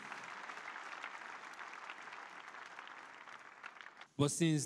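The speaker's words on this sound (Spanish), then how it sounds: "¿O podemos aplaudir al Señor Jesucristo?" Church congregation at a healing service applauds for Jesus Christ: a soft, steady wash of many hands clapping at some distance, then a voice speaks up loudly and close at the end.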